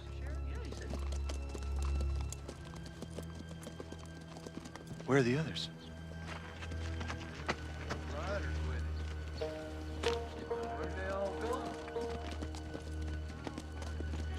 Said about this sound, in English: I don't think there's anybody on them horses.